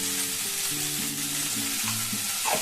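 Spices sauté in a pan for a tomato, poppy seed and cauliflower curry, giving a steady dense sizzle and frying hiss with faint tonal notes under it and a light stirring scrape near the end, with no talk.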